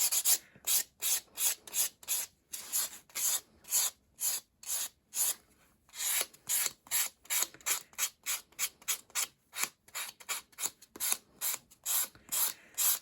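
A builder gel nail extension is buffed in quick, even back-and-forth strokes, each a soft, close rasp separated by brief gaps, fairly quiet with no talking.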